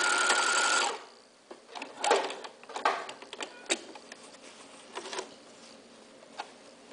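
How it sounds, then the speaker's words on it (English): Sewing machine stitching a quilt binding at an angle: a short burst of steady stitching at the start, then a series of soft clicks, taps and brief handling noises in a quiet room. "I'm going to stitch at an angle and just swipe off to the right"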